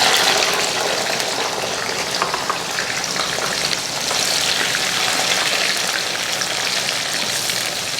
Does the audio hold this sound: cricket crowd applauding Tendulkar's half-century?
no